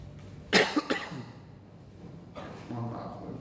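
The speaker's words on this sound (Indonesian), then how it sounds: "Mohon maaf, batuk." A lecturer gives a few short, close coughs during a Quran study talk, then falls quiet before faint talk resumes.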